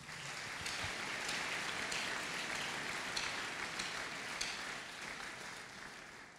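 Congregation applauding the Lord at a church service, a dense, steady wash of clapping from many hands that holds evenly throughout with no speech over it.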